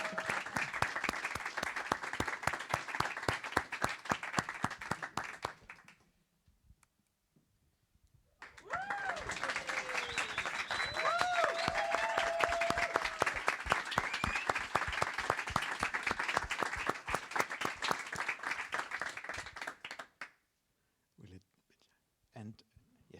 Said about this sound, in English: Everyone that showed up, applaud yourself.